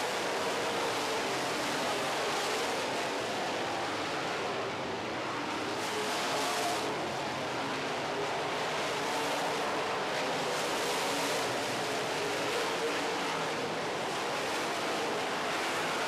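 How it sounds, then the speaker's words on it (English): Ford-powered super stock race car roaring around a racetrack during a feature race, a steady, loud, broadband engine wash that swells and fades slightly as the car passes, with no voices over it. "Wagaman's car is Ford powered, and it's making big power right now"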